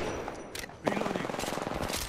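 Automatic gunfire in the video game Apex Legends: a quick rattling burst of evenly spaced shots, loud and close, following a short muffled stretch.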